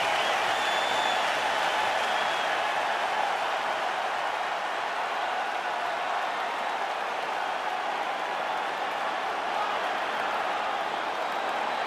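Capacity arena crowd in the UFC 5 fighting video game, a steady broad roar of applause and cheering that holds evenly for the whole stretch, dense and continuous with no distinct voices standing out.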